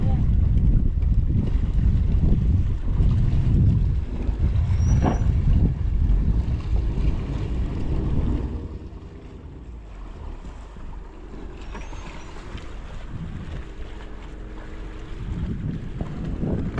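A small outrigger fishing boat from Dinahican moves across open water, with loud wind buffeting and rushing water that ease off into a lower, steadier wash partway through.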